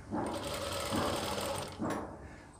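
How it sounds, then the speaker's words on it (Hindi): An electric sewing machine stitches a long kurti, its close mechanical whir running steadily, pausing briefly, then starting again for a short burst. "ये मैं पूरी सिलाई लगा लूँगा"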